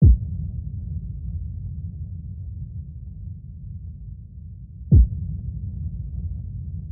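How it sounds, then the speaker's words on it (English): Two deep cinematic impacts for a Harry Potter teaser trailer score, one at the start and another about five seconds later, each a sharp boom followed by a low sustained rumbling tail. "I'm going to use a cinematic impact sound to sort of mark where the beats of the trailer are"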